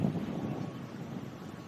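Wind blows across an open golf course at a women's professional tournament as a steady, rushing roar buffeting the microphone, loud and unbroken throughout with no voices.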